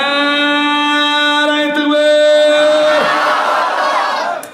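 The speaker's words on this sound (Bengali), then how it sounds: "একবার তাকবীর দেন" A crowd at a Bengali religious sermon shouts takbir together in a long, loud, sustained chant of many voices, rising and then trailing off.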